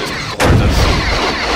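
Torpedoes fire in the Star Trek Bridge Commander space combat game, a sudden heavy booming launch that breaks in after a short quiet lead-in and rolls on as a loud, sustained rumble.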